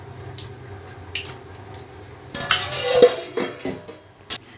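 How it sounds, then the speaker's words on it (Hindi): A lid is set onto a steel container holding fried dahi vadas soaking in water, giving a few metallic clinks and clatters with a wet squish, close and fairly loud after quieter handling sounds. "इनके ढक्कन लगा के रख दूँगी इनको।"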